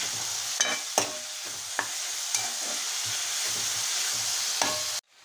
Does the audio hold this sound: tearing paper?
no